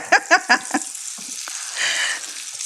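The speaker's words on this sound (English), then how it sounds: "You hear that sizzle? So we are frying." Keto General Tso's chicken sizzles steadily in hot oil, with a few sharp clinks of a utensil against the pan at the start and a brighter hiss swelling near the end.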